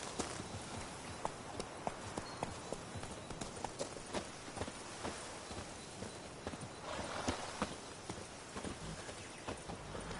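Roach, Geralt's horse in the video game The Witcher 3, walks with a steady clip-clop of hooves, faint and even over a low ambient bed.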